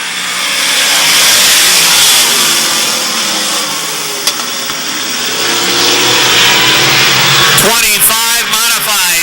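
Modified race cars roar around a track in a dense, loud, continuous engine drone, with sharper passing whines sweeping by near the end as the cars run close together.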